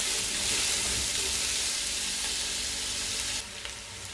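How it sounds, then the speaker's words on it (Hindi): Onion frying lightly in a pan for mustard greens, a steady close hiss and sizzle that eases off near the end, without talk. "अब इसमें हम लोग डालेंगे प्याज डालेंगे, और प्याज को भी फुल ब्राउन नहीं करना, बस हल्का हल्का ब्राउन करना है"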